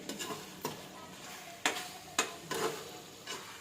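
Chicken fry coated in masala being stirred in a pan, with a steady dry sizzle broken by several sharp scraping strokes of the spatula, close and moderately loud, and no voices.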